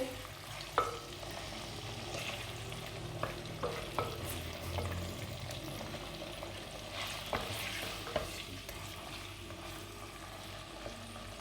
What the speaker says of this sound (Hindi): ये डाल लेते हैं हांडी में, इसको फ्राई कर लेंगे